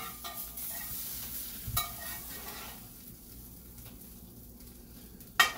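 Hashbrowns sizzle softly in a pan, with a few scrapes and stirring scuffs from a pan scraper and a sharp clank near the end, heard close without talk.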